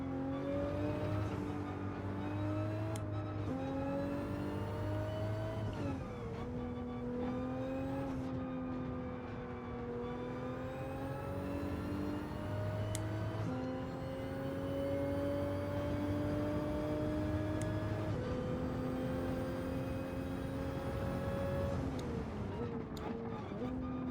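Race car in Gran Turismo 7 lapping the Red Bull Ring, its engine droning steadily with rising and falling pitch through gear changes, loud and continuous throughout.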